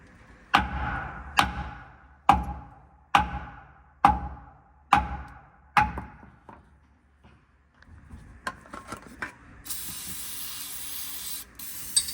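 Bolts on a 1950s GM 4104 bus are tapped down with seven evenly spaced, sharp metallic strikes, each ringing briefly. Quieter scattered knocks and shuffling follow, then a steady hiss near the end.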